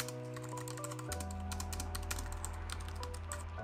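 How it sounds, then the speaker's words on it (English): Steady typing on an ultra slim wireless keyboard with quiet, low-profile keys, the soft rapid clicks running continuously under a constant background hum. "It's an extremely quiet keyboard to type on"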